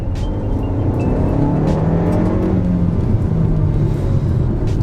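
A 2020 Kia Soul GT-Line engine revs with a steady, low, somewhat thin exhaust drone. The note swells slightly and holds continuously, close and fairly loud.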